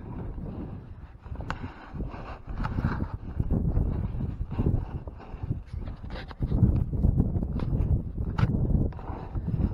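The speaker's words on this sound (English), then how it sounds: "Sorry about the wind." Gusty wind in Ohio buffets the microphone in low rumbling bursts throughout, steady and fairly loud, with occasional light clicks and rustles.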